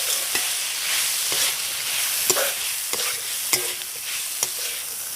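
Chicken filling being stirred and mixed in a frying pan, with a soft sizzle under a series of separate sharp scrapes and taps of the spoon against the pan, close up and without speech.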